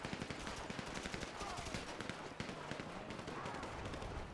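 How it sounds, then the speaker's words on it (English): Video game gunfire from GTA V during a heist shootout: dense, continuous bursts of automatic and rapid shots filling the whole stretch, loud and busy, with a voice talking briefly underneath. "I'm being shot up, man."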